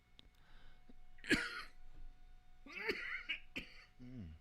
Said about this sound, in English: I made it through the show and then started coughing.